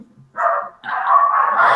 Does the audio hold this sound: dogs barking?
yes